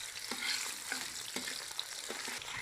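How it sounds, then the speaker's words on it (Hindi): Onions for matar pulao fry in a pan with a soft, continuous sizzle while a spoon scrapes and stirs in a loose rhythm of repeated strokes, fairly quiet and with no one talking. "अब हम इसमें ये प्याज ऐड कर लेंगे, इसको हम हल्का ब्राउन करेंगे बिल्कुल।"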